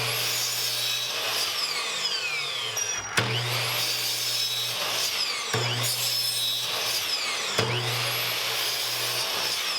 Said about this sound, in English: So I'm going to go to the miter saw and get mine cut to length